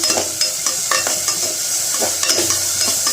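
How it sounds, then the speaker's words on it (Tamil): Onions with mint and coriander sauté in a pan, giving a steady close sizzle broken by repeated scraping stirs of a spoon against the pan. "வெங்காயம் நல்லா வதங்கட்டும்"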